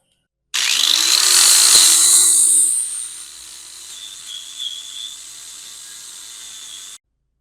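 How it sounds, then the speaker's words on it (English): Power grinder biting into metal for a scrap-built go kart, a loud bright whine for about two seconds that then drops to a steadier, quieter grind until it stops abruptly, with no talking. "And we're grinding."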